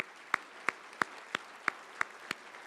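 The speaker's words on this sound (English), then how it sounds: "Let's have another round of applause for them" At a fundraising dinner, quiet, evenly spaced claps sound one at a time, about seven slow regular beats with nothing else around them.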